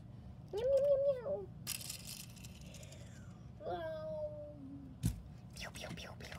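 A human voice imitates a cat, giving two drawn-out, wavering meows a few seconds apart at moderate volume, with crinkling and rustling noises between them.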